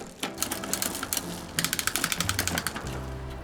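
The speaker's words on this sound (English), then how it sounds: "you'll want to rapidly shift up and down to help get the inner mechanism moving properly again." A bicycle shifter that has just been cleaned with brake cleaner is shifted rapidly up and down, producing a close, fast run of sharp mechanical clicks and ratcheting ticks, with no talking.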